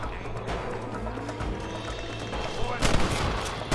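Gunfire in a Red Dead Redemption shootout: a steady rumble of shots with sharper, louder bursts near the end, under a busy game soundscape with some voices.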